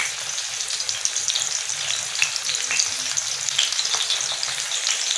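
Fish frying in oil on a tawa over moderate heat, a steady crackling sizzle with occasional pops and light stirring scrapes, close and continuous.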